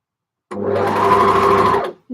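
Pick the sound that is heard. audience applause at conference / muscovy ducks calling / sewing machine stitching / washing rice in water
sewing machine stitching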